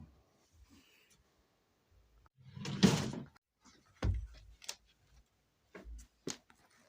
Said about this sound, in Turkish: çekmece kendi kendine açıldı